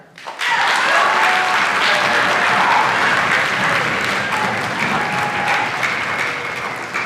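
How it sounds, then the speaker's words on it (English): Audience at a school orchestra spring concert bursting into applause, a sudden loud wash of many clapping hands that holds strong and tapers only slightly toward the end. "please join me in a round of applause to thank them all for your support"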